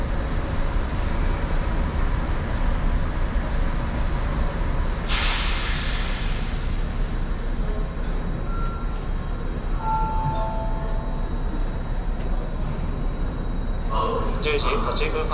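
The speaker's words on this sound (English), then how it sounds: "まもなく発車をいたします。" A JR Central Iida Line limited express train sets off from Toyohashi, with a sharp hiss of released air brakes, then a continuous low rumble and faint whine as it pulls away, under a spoken station announcement.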